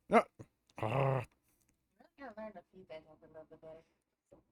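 A dog named Balto gives a short, sharp snarl and a throaty growl near the start, followed by several voices talking.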